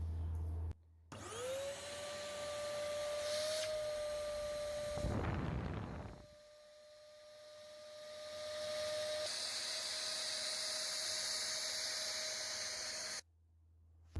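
A fireplace ash vacuum cleaner for cold ash switches on and runs with a steady loud whining hum. A brief rushing surge sounds partway through before the motor winds on and then cuts off.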